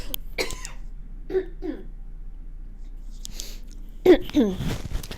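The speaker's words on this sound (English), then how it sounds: "I really keep coughing and it's not good." Two or three short, harsh coughs near the end, close by, after a stretch of quiet room noise with a few faint throat sounds.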